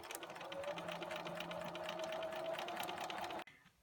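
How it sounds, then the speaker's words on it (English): A sewing machine runs steadily for about three and a half seconds, stitching red and white quilt fabric pieces together with a 1/4 inch seam, its motor hum continuous and close before stopping abruptly. "sew 1 red piece to each side of the white piece"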